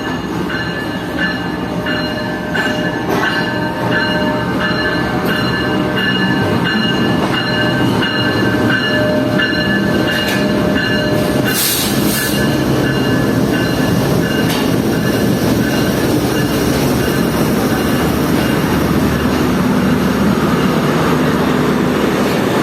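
A Karachi Express passenger train in business class rumbles steadily and loudly throughout, with continuous rail noise, wheel clatter and occasional metallic squeal, and no voices.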